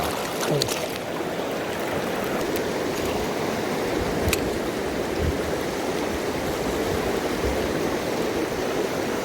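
Fast-flowing river water at a rapid where lure fishing for mandarin fish takes place rushes in a steady, broadband wash, close and continuous, with a faint knock or two.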